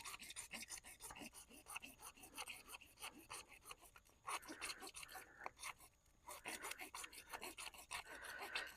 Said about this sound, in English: So I'm going to go ahead and cut some of this pipe off.